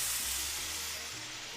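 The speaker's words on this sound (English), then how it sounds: "That's a lot of sizzle." Spanish rice sizzles in an Instant Pot as liquid is added, giving a loud, steady hiss that fades slightly over a second and a half.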